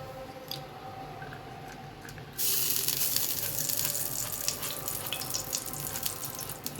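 Cooking oil is sprayed into a pan while making massvadi, starting as a sudden bright, airy hiss after a quiet moment and continuing as a steady close spray with small crackles.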